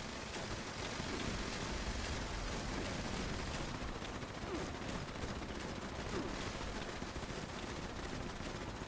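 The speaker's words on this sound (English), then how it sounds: "look at the turrets firing down on all the mobs" Sustained automatic gunfire from base turrets shooting down at mobs in Fallout 76, a dense, continuous rattle of rapid shots running steadily throughout at moderate loudness with no voices.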